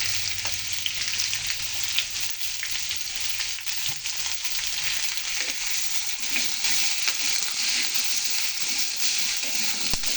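Vegetables frying in a pan with turmeric, giving a loud, constant close-up sizzle with faint stirring scrapes throughout and no talking.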